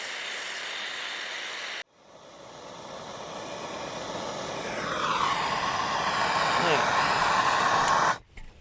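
A MAP gas torch flame roars steadily while heating plumbing pipe, a close, loud breathy hiss that stops briefly early on, then returns and grows stronger before cutting off near the end.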